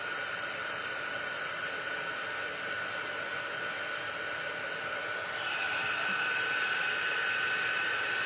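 A hair dryer blows steadily to dry fresh paint on a small spring Easter bunny craft, a continuous close whooshing roar that grows louder and brighter partway through as the dryer moves nearer.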